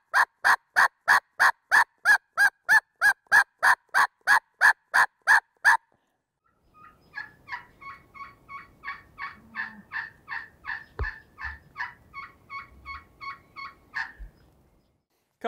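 A turkey call imitates a boss hen's yelp: a long, loud, evenly spaced run of sharp yelps, then after a short pause a second, quicker and softer series of yelps trailing off.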